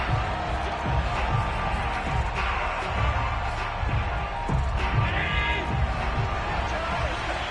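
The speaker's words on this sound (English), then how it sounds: "Plenty of shouts from this crowd as they watch the replay." A sports arena crowd shouts and murmurs while a replay is watched, a dense steady roar with thuds and scattered calls, under a commentator talking over it.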